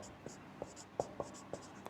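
A pen scratches across paper as a linear equation is written out by hand, with light strokes and small taps at irregular intervals over soft background noise.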